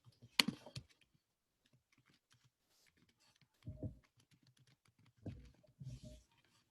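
Computer keyboard typing at a desk, with faint scattered key taps and a few louder clustered bursts of clicks separated by quiet gaps.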